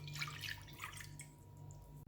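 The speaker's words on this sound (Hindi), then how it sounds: "बाउल में 1 कप पानी डालेंगे" A cup of water poured into a bowl, a close bubbling splash that fades after a moment, over a low steady hum.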